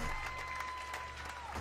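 An audience applauds, a dense, steady patter of many hands clapping at a moderate distance, sustained without a break and with no voices standing out.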